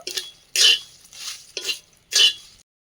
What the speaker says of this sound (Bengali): এটাকে ভালো করে একদম আমি শুকনো কড়াই নাড়িয়ে চাড়িয়ে নেব